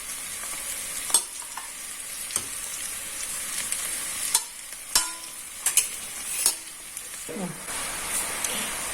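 Spice paste, sliced onion and tomato sizzle in hot oil for a Kerala-style chicken molee, a steady fry broken by scattered clinks and scrapes of stirring, fairly close.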